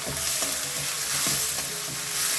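Vegetables and capsicum are tossed in a little oil in a pan for a poha dish, giving a loud close sizzle with quick rhythmic stirring scrapes and no talking.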